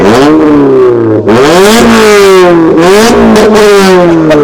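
A Suzuki Ignis with a 1.5 engine revs hard through its exhaust at a JDM car meet in Europe, the pitch repeatedly rising and falling in loud, close blips with no talk.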